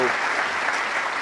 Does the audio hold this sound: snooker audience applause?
yes